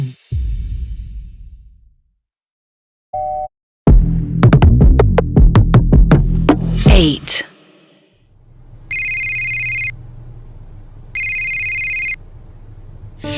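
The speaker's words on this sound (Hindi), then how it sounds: "मीरा ने फोन देखा. राजेश कॉल कर रहा था." A phone ringtone signals an incoming call, with two short electronic tone bursts repeating at a steady interval against a low background hum, following a busier stretch of plucked musical notes.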